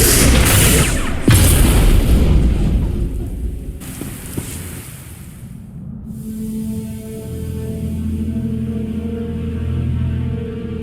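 A heavy, booming grenade blast from Star Wars: The Old Republic rolls out in a loud burst with a long rumbling tail, then fades into a lower ambient drone.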